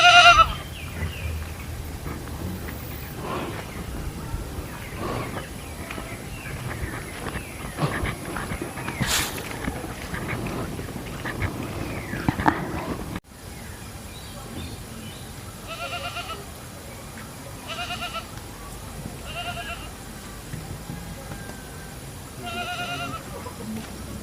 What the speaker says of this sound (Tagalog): Nasaan yung kambing na yun?